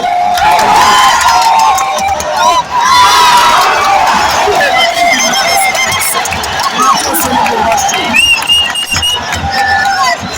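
Football fans roar and cheer after Rayon Sports' second goal, a loud sustained crowd with shouts and whistles rising over the din.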